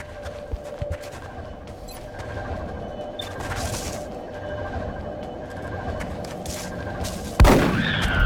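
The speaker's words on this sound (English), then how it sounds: "I know that one was flashbang" A flashbang grenade goes off in the XCOM: Art of War game: a few scattered gunfire pops and thuds give way to a single sharp, loud blast near the end, followed by a ringing tail.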